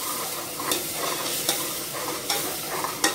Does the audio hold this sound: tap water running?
no